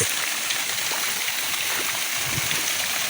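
Mountain water rushes steadily from a large hose in a continuous broadband hiss, close by, with no pauses and only faint gurgling underneath.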